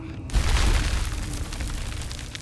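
A bomb goes off in the Baldur's Gate 3 video game, a single deep boom that swells quickly and rolls into a rumbling decay lasting a couple of seconds.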